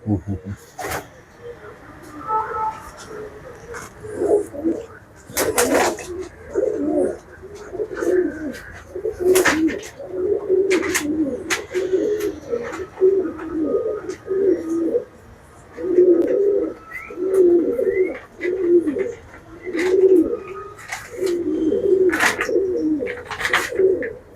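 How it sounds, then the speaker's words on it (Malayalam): A pair of flying pigeons coo repeatedly in low, throaty bursts close by, while a person talks over them and brief clicks and rustles sound now and then. "ഇതൊരു പ്രാവ് ഇത് മെയിൻ ജോഡിയാണ്"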